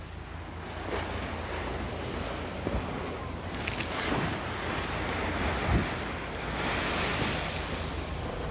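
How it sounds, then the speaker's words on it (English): Ocean waves on a Hawaiian shore crash and wash in a continuous rumbling roar, with surges swelling every few seconds and wind buffeting the microphone. "Listen to the waves and the crashing."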